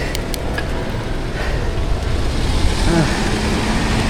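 Steady road traffic noise fills the clip, a continuous broadband roar of passing vehicles with a constant low rumble and no clear breaks.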